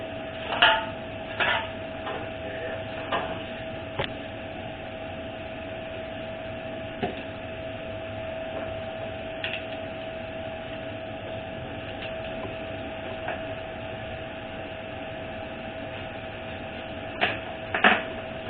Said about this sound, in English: Get this fluid out of it. Grab my air hose.